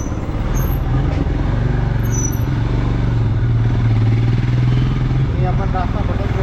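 A motorbike rumbles steadily and loudly up close while riding through the narrow lanes of Nathdwara, Rajasthan, its engine drone continuous throughout, with voices talking over the ride.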